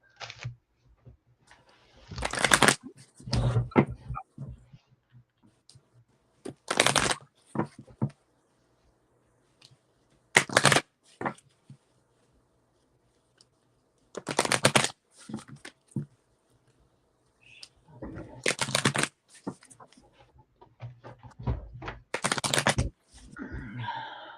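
Reading cards are gathered and shuffled after one is dropped: repeated bursts of riffling and shuffling separated by short quiet pauses, close and fairly soft.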